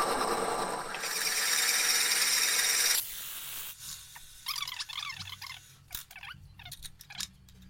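A drill bit bores a hole in wood for a wood-and-metal pepper mill, a loud continuous grinding whir for about three seconds that then stops, followed by scattered squeaks and clicks.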